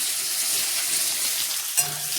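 Onions sizzle steadily in a hot pan for a paneer curry, a continuous close, loud frying hiss with a brief stir or clink near the end.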